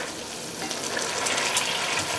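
Tomatoes are mashed with a potato masher in a frying pan, giving a wet sizzling crackle with faint squelching and scraping, continuous and close, with no speech.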